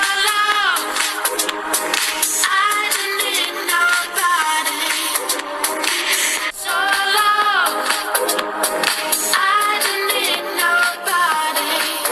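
A Redmi Note 9 smartphone speaker plays music at maximum volume, a dense, loud and continuous mix with sung melodic lines and no bass depth, steady from start to finish with only brief dips.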